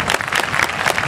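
Dense, steady applause from a stadium crowd greets the sprinters after the men's 100 m final at a Chiba prefecture high school track meet, continuous and fairly loud throughout with no talking over it.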